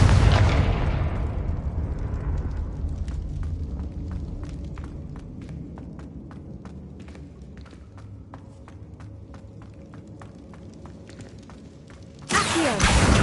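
A Confringo blasting curse detonates with a loud boom in Hogwarts Legacy, followed by a long rumbling decay with rhythmic footsteps, then a sudden bright burst at the end.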